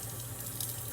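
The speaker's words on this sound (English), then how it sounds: "Run a little water in your bowl." Tap water runs steadily into a bowl in a kitchen sink, filling it for washing raw chicken wings; a continuous close hiss and splash with no talking.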